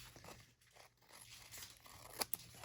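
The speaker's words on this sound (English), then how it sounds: "I'm just going to trim that excess off" Soft, faint paper sounds come from scissors trimming excess paper off a handmade card. Quiet rustling and crinkling lead into two brief, sharp snips near the end, with no voices heard.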